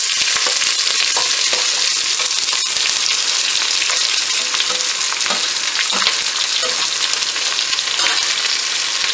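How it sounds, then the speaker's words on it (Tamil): Onions frying with fennel seeds and cloves in hot oil in a pan for prawn biryani, a loud, dense and continuous sizzle with stirring scrapes throughout and no voices. "சோம்பு நல்லா வதங்கிட்டதுக்கப்புறம் வெங்காயம் போட்டுக்கலாம்."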